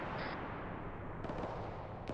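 Heavy weapons fire in a military video game, distant booming blasts and rumbling artillery-like thuds under a steady low roar, moderately faint with a sharper burst near the middle.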